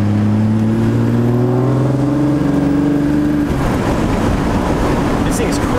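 A modified 450-horsepower 12V Cummins diesel truck with a five-speed accelerates hard, engine note climbing steadily then dropping into a rough, loud roar as it shifts, heard close and from inside.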